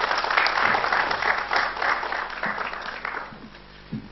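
Audience applause after a talk on online marketing, a dense wash of clapping that swells early then gradually thins and fades over about four seconds, with a few isolated claps near the end.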